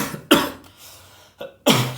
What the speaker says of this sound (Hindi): आप लोग देख लेना थोड़ा मेरा खांसी